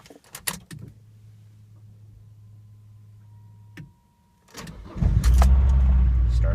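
An old car, either a 1990 VW Golf or a 1997 Saturn SC2, with a flat battery. Keys jingle and an engine tone hums, then after a short pause the starter cranks and the engine catches into a loud, close idle.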